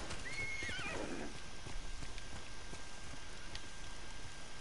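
In the video game Ghost of Tsushima, a single horse whinny rises and falls near the start, followed by soft hoofbeats and a steady rain-like hiss in the background.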